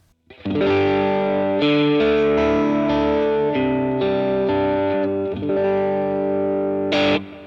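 An electric guitar played through a Boss GX-100 rings out at an edge-of-breakup tone, with loud, sustained, slightly crunchy chords that change several times and end in a brighter strum.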